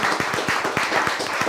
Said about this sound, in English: Round of applause for Yee Lee